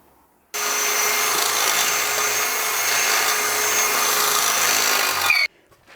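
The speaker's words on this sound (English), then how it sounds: "We'll do a test drill and have a look" A power drill starts abruptly and whines steadily for about five seconds as it bores into a rusty steel plate, then cuts off into quiet.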